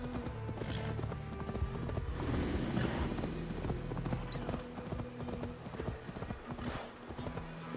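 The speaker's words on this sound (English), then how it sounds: "Do not slow down, horse." A horse gallops in Assassin's Creed Valhalla, its hooves pounding in quick, rhythmic clip-clops at close range over a bed of wind and background game sound.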